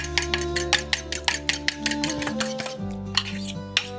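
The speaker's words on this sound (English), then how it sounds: "Got a large egg here. I'm gonna mix that up." A large egg being beaten in a bowl for Welsh cake batter, with quick rhythmic clinks of a utensil against the bowl, fairly close and steady, pausing briefly before resuming.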